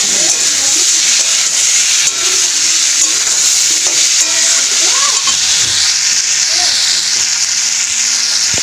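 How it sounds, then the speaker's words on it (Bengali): Potatoes with poppy seed paste stirred in a frying pan, a loud continuous frying hiss broken by scraping spatula strokes and soft knocks. "আলুগুলো দিয়ে ভালো করে নাড়াচাড়া করে"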